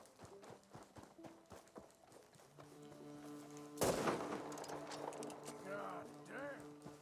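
A gunshot fired at a pig in Red Dead Redemption II, a single sharp crack midway through, preceded by rhythmic hoof clopping and followed by squealing and ambient game noise, with a voice speaking faintly.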